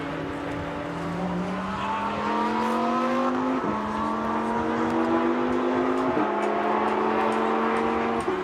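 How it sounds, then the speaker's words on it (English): Race car engines drone steadily as the field weaves side to side on track ahead of a rolling start, with repeated shifts and rising revs from several cars blending into a loud continuous roar. "Drivers weaving from side to side and getting themselves reset, ready to race."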